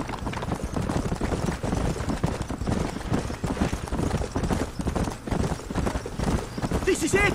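Rapid rhythmic horse hooves clip-clopping at a run in the video game Red Dead Redemption, loud and steady, with a brief whinny near the end and a voice talking over it.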